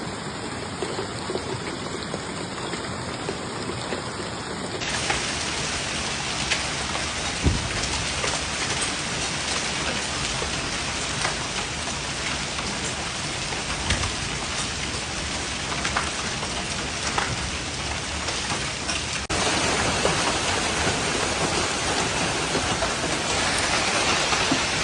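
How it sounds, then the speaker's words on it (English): Hail and heavy rain from a fast-moving storm pound down in New York, a dense, loud, unbroken hiss and patter with occasional sharper impacts, steady throughout. "hail was reported as storms moved rapidly east at speeds approaching 50 to 60 miles per"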